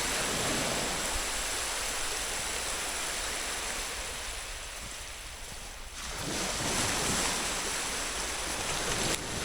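Sea waves wash onto the shore in a steady, loud roar of surf, swelling and easing with a brief lull before building again; no voices.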